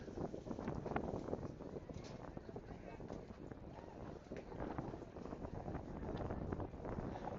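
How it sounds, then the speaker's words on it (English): Strong gusting wind buffets the microphone outdoors at a track meet in Fort Collins, Colorado, a loud continuous rumble and roar that barely lets up the whole time. "Wind is really kicking up."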